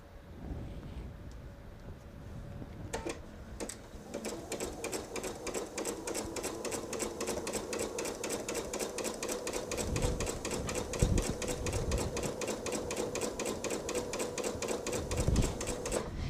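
A sewing machine stitches a seam on a small log cabin lap quilt. It runs steadily and close for most of the stretch, a rapid even clatter of needle strokes after a few brief starts.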